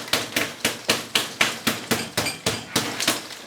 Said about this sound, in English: we will go round and tap the pot and see if that loosens it a bit